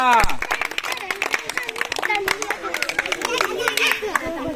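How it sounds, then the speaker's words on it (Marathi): A burst of scattered hand-clapping from a group of children at a games-and-songs gathering, cheering a girl named Aaradhya; the claps are quick and uneven, mixed with lively overlapping chatter and voices. "छान छान आराध्यासाठी जोरदार टाळ्या."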